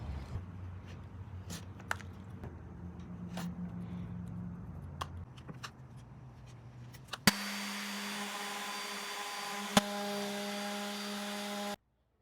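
Thrifted furniture is sanded down: scattered scraping and rubbing at first, then a loud motorized sander whirs steadily for about four seconds before cutting off.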